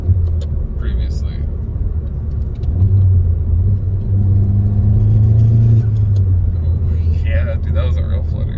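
A modified Volkswagen GTI with an aftermarket exhaust and a diverter valve spacer rumbles from inside the car, its engine note swelling as it accelerates and then easing off, with a brief turbo flutter.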